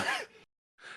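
A single human sneeze, a sharp burst that trails off quickly, then silence followed by a faint breathy sound.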